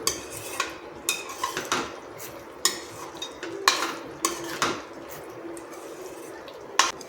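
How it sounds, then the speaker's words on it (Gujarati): A spoon stirring capsicum gravy curry in a metal pan, with repeated sharp scraping clinks against the pan at an irregular rhythm, close and clear with no talk. "બધું જ આપણે સરસ મિક્સ કરી લઈશું"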